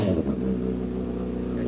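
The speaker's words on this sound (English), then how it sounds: "let's just get a couple revs in once she's warmed up" Steady engine idle with a held rev on a warming vehicle after a cold start, a loud close drone with a brief bump in throttle at the start and no talking.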